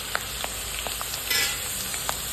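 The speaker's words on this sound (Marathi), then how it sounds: "मस्तपैकी बारीक गॅसवर आपण त्याला फ्राय करून घेऊया" Papaya cut into French fries frying in hot oil over a low flame, a steady soft sizzle with faint crackling pops, heard close and alone.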